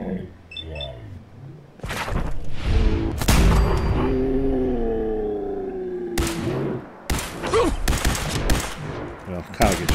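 Loud Fallout 4 gunfire, including shotgun blasts fired close beside a target near Diamond City, comes in sharp repeated bursts with gaps, and someone talks between and over the shots.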